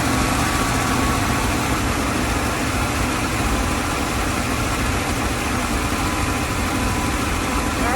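An International LoadStar grain truck engine runs at a steady idle, a continuous loud rumble with rough vibration that holds evenly throughout with no voices.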